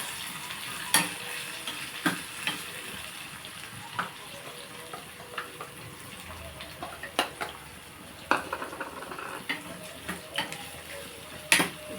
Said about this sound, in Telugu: ఇందులోనే మనం ఉల్లిపాయలు పచ్చిమిరకాయలు కూడా వేసేస్తాం